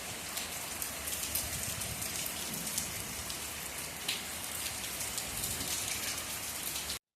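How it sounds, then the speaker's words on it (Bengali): Steady rain pours down in a dense, continuous hiss of drops striking surfaces nearby, with no voices over it. "আপাতত এই বৃষ্টিটা একটু উপভোগ করে নিই।"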